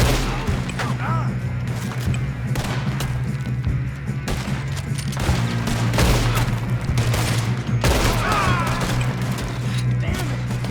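Gunfire rattles through a shootout during a train robbery mission in the video game Red Dead Redemption 2. Repeated sharp shots and volleys sound over a steady low rumble, with bursts spread across the whole stretch.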